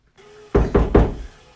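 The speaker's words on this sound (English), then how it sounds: "Stop knocking." Three firm, evenly spaced knocks land on a bathroom door, loud and close, after a faint hum, each thud ringing briefly before the next.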